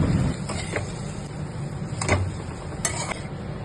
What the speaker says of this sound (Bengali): আবার ভালো করে নাড়তে থাকলাম কিছুক্ষণ